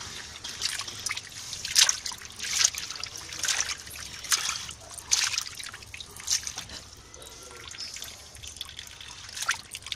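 Something washed by hand in a basin of water, with steady trickling, dribbling and small sloshes repeating throughout, close and fairly soft.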